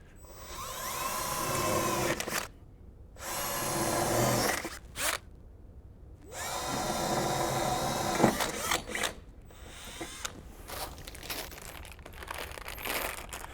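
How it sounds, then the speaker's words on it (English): Loud, harsh bursts of a power drill boring into a metal door closer mounting, grinding and whining in several runs of a few seconds each, separated by brief pauses and clanks. "go ahead and drill into the metal"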